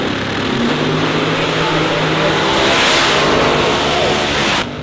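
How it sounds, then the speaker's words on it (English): A Pro Mod drag car named the Shockwave, powered by a supercharged 426 cubic inch Keith Black Hemi, roars loudly and steadily down the strip, the engine noise swelling then cutting off abruptly at the end, with an announcer talking over it. "Bobby Marriott, the Shockwave, 426 cubic inches of unnaturally aspirated Keith Black Hemi."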